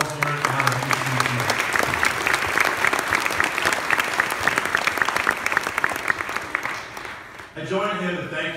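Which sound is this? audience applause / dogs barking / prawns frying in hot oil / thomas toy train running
audience applause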